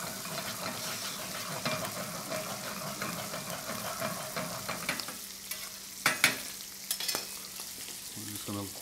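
Butter sizzling and frying in a pan for sea scallops, a continuous crackling hiss that thins midway, with stirring clatter and a few sharp utensil knocks.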